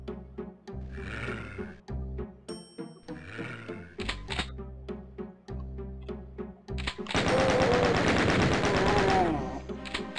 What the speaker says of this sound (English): I'm using the shotgun.